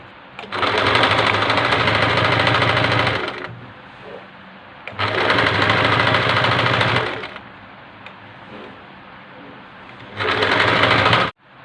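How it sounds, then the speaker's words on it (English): A sewing machine stitches the neckline of a black dress in three loud, rapid bursts of whirring, clattering stitches, separated by quieter pauses while the fabric is repositioned. "So you just sew this round, sew the neck part round."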